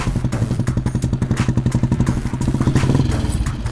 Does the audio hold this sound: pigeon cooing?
no